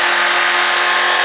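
Sprint car engine on an oval track roaring loud and close under acceleration, a dense steady high-pitched blare that holds throughout the short burst.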